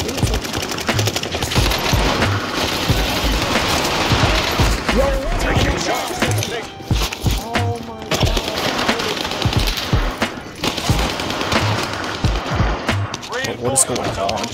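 Dense automatic gunfire in Warzone, continuous loud bursts and rattling shots overlapping with explosions, a voice talking over the constant combat din throughout.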